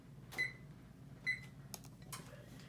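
Faint beeps from a kitchen oven's control panel as it is switched on and set to 350 degrees, two clear tones then a few soft button presses, quiet and close.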